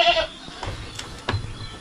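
A goat on a Philippine backyard farm gives a short, faint bleat amid low background noise, with a few soft scattered sounds around it.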